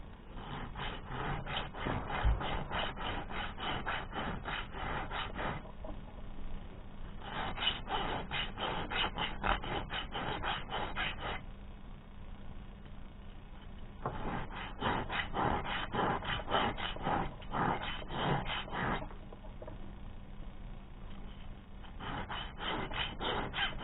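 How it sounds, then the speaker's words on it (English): A copper ring worked with a hand file: close, steady rasping strokes in quick runs of several seconds, separated by short pauses. "You just keep filing until all that's gone."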